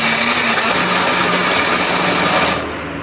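An electric blender grinds spice paste with a steady, loud whirring drone that holds for almost three seconds, then cuts off and winds down, with no talking.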